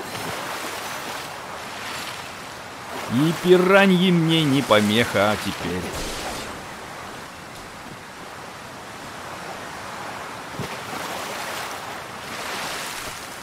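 Rushing waterfall water in the video game Ratchet & Clank makes a steady, continuous roar that lasts the whole stretch, while someone speaks Russian over it.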